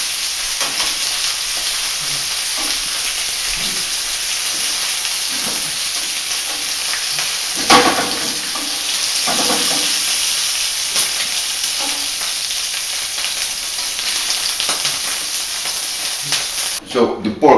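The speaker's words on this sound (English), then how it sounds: "So the ribs have been sealed." Pork spare ribs searing in a pan for sticky Chinese ribs, a loud continuous sizzle with a bright hiss, broken by occasional stirring scrapes and clatter near the end.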